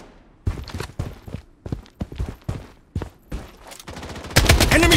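Gunfire in the mobile shooter Blood Strike, several rapid bursts of close automatic shots separated by brief pauses, ending in a dense, loud volley.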